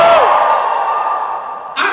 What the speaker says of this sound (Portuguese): Só os escolhidos dão um grito para eu ouvir.